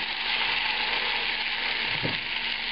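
Large chunks of onion and tomato fry in a pan with a steady, close hiss and sizzle, continuous throughout with a brief stir midway and no talking.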